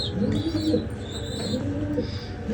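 Ferozpuri pigeons cooing close by, soft repeated low coos overlapping, with a few faint chirps in the background.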